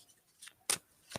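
Oracle cards being shuffled by hand, three short, crisp riffling bursts with brief pauses between, close and fairly quiet.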